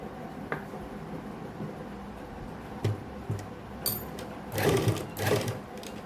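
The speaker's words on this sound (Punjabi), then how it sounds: "ਬਿਲਕੁਲ ਪਾਈਪਿੰਗ ਦੇ ਨਾਲ ਨਾਲ ਸਲਾਈ ਲਾਵਾਂਗੇ ਜੀ" A sewing machine stitches alongside the piping of a garment neckline in short bursts, with brief pauses between runs and louder passages toward the end; no one speaks.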